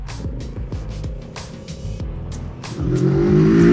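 Roadster motorcycle engine revving up, rising to a louder, higher pitch toward the end as the front wheel lifts into a small wheelie, close by and with no talk.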